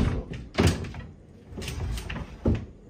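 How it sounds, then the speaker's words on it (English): A hotel room door on Rhodes is handled roughly, giving several knocking thuds and rattling bangs at an uneven pace, with a couple of loud, close impacts. "I broke the door"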